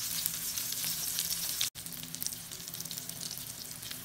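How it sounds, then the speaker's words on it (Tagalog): Cabbage fries in a pan with a bright, steady sizzle and crackle, close up and constant apart from a momentary break. "Ang pritong repolyo ni Boy Discarte."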